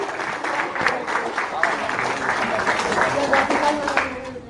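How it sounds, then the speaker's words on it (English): Parents and staff at a school breakfast give recognized kids another round of applause, a steady crowd clapping with voices mixed underneath. "All right, let's give them one more round of applause."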